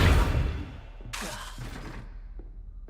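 Accio summoning spell effect from a Harry Potter video game: a heavy low whoosh opens, then a bright shimmering burst with a few soft thuds and a faint tick near the end, heard alone.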